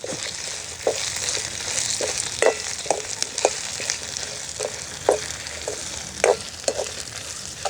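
Curry leaves frying in hot oil for a thokku, a constant crackling sizzle with repeated close scrapes and clinks of a ladle stirring in an uneven rhythm, with no voices.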